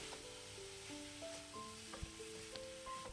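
Beetroot and ground coconut are stirred in a pan, with a soft continuous sizzle and scraping and a few sharper clinks of the spoon against the pan, faint and close.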